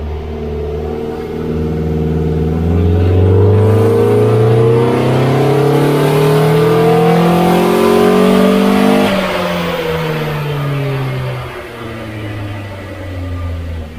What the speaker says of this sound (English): So let's see how this first power run went.